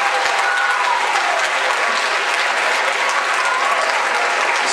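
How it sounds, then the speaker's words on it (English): An audience applauds at an entertainment show, a steady, wide wash of sustained clapping at even loudness throughout, with no voices on top. "applause for Australia"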